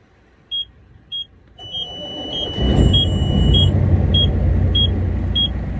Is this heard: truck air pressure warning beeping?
yes